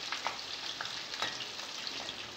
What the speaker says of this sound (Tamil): அதுக்கப்புறம் பூண்டு அதையும் எண்ணெயிலே வறுத்துட்டு சேர்த்துக்கலாம்.